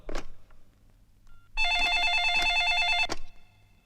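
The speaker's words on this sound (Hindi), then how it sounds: "लगाओ, मुख्यमंत्री बाबूराव जी देशमुख को फोन लगाओ।" A phone call is placed in a Hindi film scene: a few dial tones, then a bright electronic ringtone warbles steadily for about a second and a half before cutting off, loud and close with no speech.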